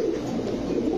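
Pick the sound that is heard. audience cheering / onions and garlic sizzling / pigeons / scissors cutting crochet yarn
pigeons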